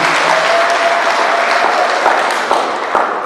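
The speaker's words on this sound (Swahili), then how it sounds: "tujipongeze kwa makofi mengi." Loud, dense applause from a crowd at a ceremony in Iringa where villages receive environmental conservation certificates, sustained and even throughout with a few sharper claps standing out.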